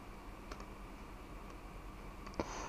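Computer mouse clicks selecting bodies in SolidWorks CAD software: a few sparse, crisp clicks spaced apart over a low steady room hum, close and quiet.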